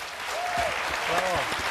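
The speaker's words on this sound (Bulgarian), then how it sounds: "Силни аплодисменти за екипа!" Dense, steady applause from the studio audience of a celebrity impersonation show, a close continuous patter of many hands for the crew, with a speaking voice carrying over it throughout.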